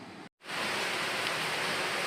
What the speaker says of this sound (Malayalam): നല്ല മഴ വന്നു, കാറ്റും മഴയെല്ലാം വന്നു